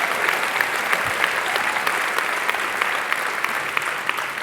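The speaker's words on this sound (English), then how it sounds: "please give her a big round of applause" Sustained audience applause at a National Education Union speech, a dense even wash of many hands clapping throughout, fairly loud and steady with no talk over it.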